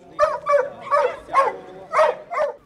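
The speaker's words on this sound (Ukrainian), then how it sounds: "Лайки, гончі, лягаві – понад 150 собак 16 різних порід." A hunting dog at a breed show of hounds, pointers and laikas gives six loud, close barks and yelps at a steady rhythm, with no voices over them.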